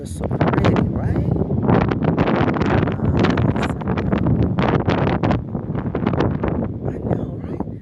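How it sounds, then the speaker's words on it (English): Gusty wind hits an outdoor microphone on an autumn day, giving loud, continuous buffeting and rumbling bursts across the whole stretch, with voices partly buried beneath. "But it is windy."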